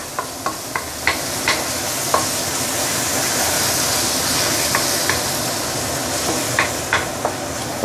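Chili sizzles in hot oil in a pan for Muar patong assam fish, a steady close frying hiss punctuated by light, irregular stirring clicks.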